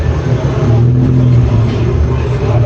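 BMW E36 drifting at a car wash in Zambia, its engine droning loudly and steadily with slight swells in pitch, heard fairly close amid general background noise.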